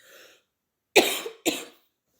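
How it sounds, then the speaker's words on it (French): Two sharp coughs from a person with COVID, close to the mic, a brief pause between them, each with a short rasping tail; a faint murmur precedes them. "Attendez, je tousse."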